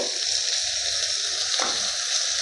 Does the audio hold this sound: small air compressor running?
no